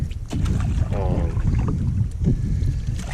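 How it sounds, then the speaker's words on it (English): Wind buffeting a microphone on a solo canoe trip along the Frost River in the Boundary Waters, a loud, continuous low rumble with gusty swells throughout. "The wind decides to get me."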